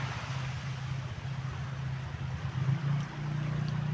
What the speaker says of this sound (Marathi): तुम्हाला आवाज आला असेल लाटेचा